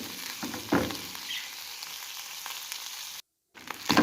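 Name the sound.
boiled liver frying in ghee with spices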